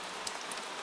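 Gentle rain falls steadily on a quiet night in old Edo, a soft, even hiss of drops with faint scattered patters and no voices.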